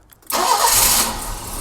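A BMW E30 engine cranks briefly and fires, then settles into a steady, close, loud idle with no talking.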